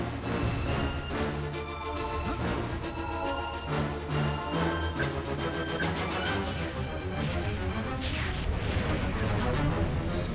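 Grenades burst again and again during a Jet Force Gemini castle assault, loud crashing blasts packed closely together over dense game music and effects, with no pauses between them.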